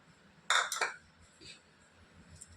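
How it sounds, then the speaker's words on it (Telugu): A spoon mixes leftover idli batter with maida, cumin and curry leaves in a bowl. A short burst of close clinks and scraping is followed by quiet, with a faint clink later. "ఇలా మొత్తం కలిపేసుకోవాలి"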